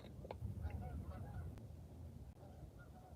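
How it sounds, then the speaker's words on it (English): Faint geese honk in a short series of calls near a resort in West Virginia, distant and soft over a low background hum. "hear the geese?"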